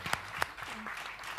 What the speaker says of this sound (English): join me in really for a round of applause for wonderful panels